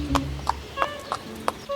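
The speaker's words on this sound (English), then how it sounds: "So Bobino mounted the horse and rode to where the frogs were." Horse hooves clip-clop in a slow, evenly spaced series of sharp knocks as a horse is ridden, with a low hum underneath.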